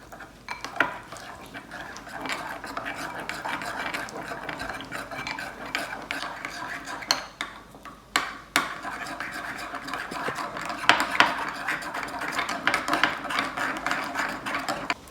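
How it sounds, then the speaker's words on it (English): A spoon mixes kimchi cold noodle ingredients into a gochujang-based sauce in a bowl, with continuous scraping, stirring and clinks of metal against the dish, close up and irregular throughout. "now all we need to do is use the spoon and mix it up into the sauce"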